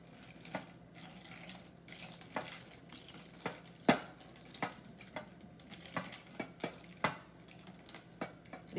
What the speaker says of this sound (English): we're just going to melt our chocolate into the cream